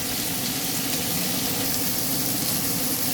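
Onions frying with grated ginger and garlic in a pan, a loud, steady, close hiss of sizzling oil with no pauses and no talking.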